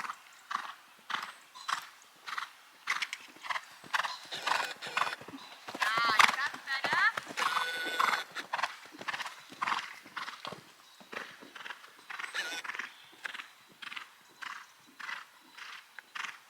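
Hooves of a young horse clip-clop in a steady, brisk rhythm on firm ground during a showjumping lesson while a horse whinnies once, and people talk faintly over the hoofbeats.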